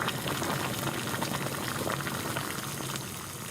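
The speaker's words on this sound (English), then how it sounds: "And we got a full boil." Water comes to a full rolling boil in a pot on a SOTO Triflex camping stove, a dense close bubbling hiss that stays steady throughout with no voices.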